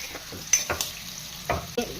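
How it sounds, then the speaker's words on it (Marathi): Onion pieces frying in smoking-hot oil until golden brown for dhaba-style shev bhaji, with curry and bay leaves to follow; a soft steady sizzle under a few brief scraping stirs. "त्यामध्ये आपण सर्वात आधी गोल्डन ब्राऊन होईपर्यंत हा कांदा फ्राय करून घेऊया"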